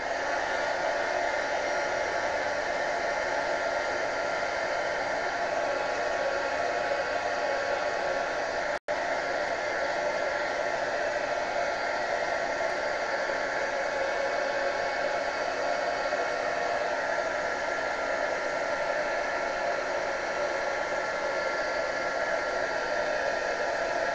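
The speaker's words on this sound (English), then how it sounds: "Heat gun." A heat gun blows steadily for the whole stretch, used on an art journal page with a color wash and Dylusions black gesso, a constant close airy roar with one brief click partway through.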